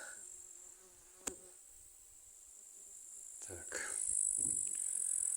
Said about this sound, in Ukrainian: Оса літає. Хоче мене вкусити.